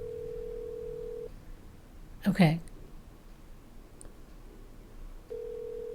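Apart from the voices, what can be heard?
telephone ringing on an outgoing call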